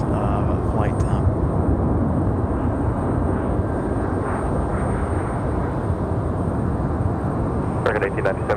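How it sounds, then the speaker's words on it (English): An American Airlines jet arriving from Charlotte touches down and rolls out on runway 23 right at Raleigh-Durham airport, a loud steady broadband roar of engines and rushing air throughout, with a voice speaking over it. "Nice smooth touchdown for American. Again, this one from Charlotte."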